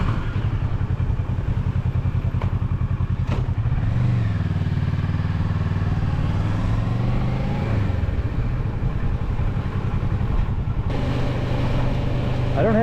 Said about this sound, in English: ride my motorcycle up through the woods to Tofino